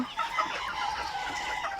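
Young Fayoumi chicks peep and cluck softly in a short burst, nearby but faint.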